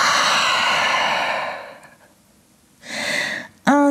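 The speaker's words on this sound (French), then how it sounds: "grande respiration." A deep, audible breath is drawn and released during a vinyasa yoga class, a long airy exhale fading out, then another breath swelling briefly before a short voiced sound.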